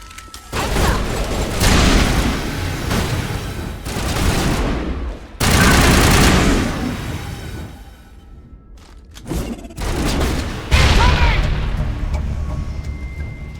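Sustained gunfire in a sci-fi firefight from the Mass Effect video game, with dense bursts of automatic shots and heavy booms that rise and fall in waves, loud and close, with no talking.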